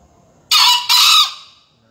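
One brief, hoarse two-note crow from a green junglefowl, sharp and near, fading out quickly into silence.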